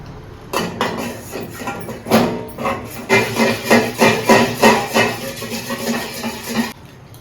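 A spoon stirring a spoonful of cornflour into a little milk in a kitchen bowl, giving a steady run of close, fairly loud scraping and clinking strokes with short pauses between them.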